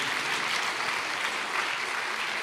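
A church congregation bursts into dense, steady applause, loud and sustained for a couple of seconds with no voices over it.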